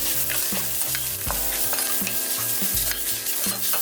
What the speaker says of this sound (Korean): 밀가루 반 테이블스푼을 넣어줘서 빠르게 볶아줍니다